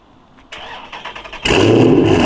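Dodge Scat Pack with a catback exhaust cranking and firing up, a short starter whir that bursts into a loud, steady rumble, close by.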